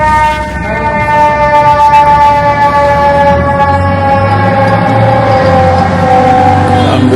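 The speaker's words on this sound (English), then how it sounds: "Ambulance they sound like a cat." An ambulance siren wails on a busy New York City street, loud and close, with long sustained tones over heavy traffic rumble.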